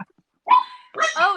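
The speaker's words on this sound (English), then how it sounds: "Oh, the dog is so excited about it." An excited dog gives two quick, close, high yelping barks separated by a brief pause.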